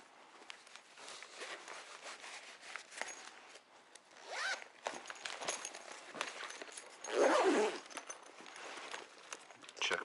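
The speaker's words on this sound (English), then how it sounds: "check my zippers, make sure nothing pinches" Zippers being worked on a Mosko Moto motorcycle tank bag, several short scratchy zipping runs with a longer, louder pull near the end amid soft handling rustles, close up and quiet.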